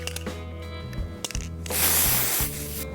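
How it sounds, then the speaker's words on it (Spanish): Pearl-coloured aerosol spray misting onto a fondant-covered cake, a short hiss burst after a few faint clicks and handling noises, fairly close and alone. "ahora vamos a dar un poco de matizada con color perla en aerosol para darle un toque brilloso"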